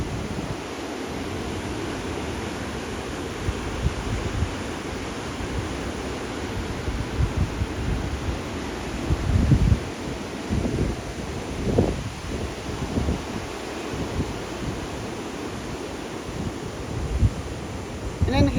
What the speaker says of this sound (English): take a look at some of these waves over there.